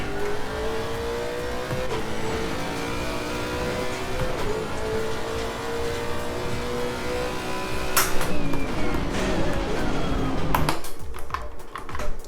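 A race car engine drones and revs in Assetto Corsa Competizione, loud and sustained with shifting pitch, then changes gear and throttles abruptly near the end; no one speaks.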